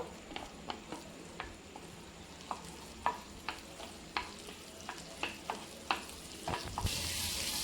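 Butter sizzles softly in a kadai, with a string of sharp spoon taps and stirring clinks ringing out at irregular intervals, ending in a louder burst of hissing frying.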